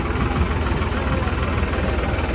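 Tractor engines idle together at a huge tractor rally protesting the Land Pooling Policy in Ludhiana. A loud, dense, steady rumble continues without a break.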